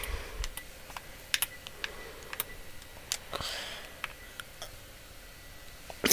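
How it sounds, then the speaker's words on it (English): Someone types a URL on a computer keyboard: scattered, light key clicks at an irregular pace, close but quiet, over a low background hiss and with no speech. "So you want to type in, this is what you want to type in."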